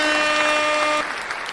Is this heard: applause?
yes